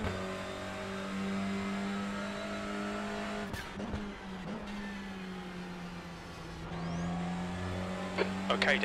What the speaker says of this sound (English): seems to be revving a little bit too much for my liking.